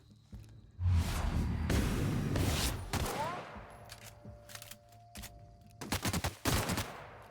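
Gunfire in The Outer Worlds video game: a long loud burst of rapid shots, then scattered single cracks and short tight volleys, close and sharp with brief quiet gaps between.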